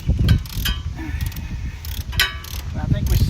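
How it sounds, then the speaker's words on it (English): Close metallic ratcheting and clicking from wrenching out the last alternator bolt on a 1956 Willys Jeep, in short bursts with pauses between. "Should be the last bolt for the alternator, and it should come right on out."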